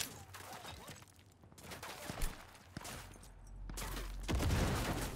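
Gunfire in Cyberpunk 2077 comes as several sharp, separated shots with bursts of crackle and a rising rumble toward the end, at moderate loudness without talk.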